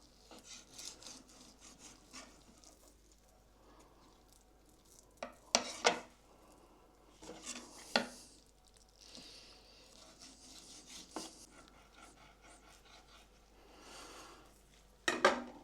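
A knife slicing the skin away from a raw salmon fillet on a board, faint soft scraping and rubbing strokes with a few sharper scratchy pulls, close and quiet with no talking.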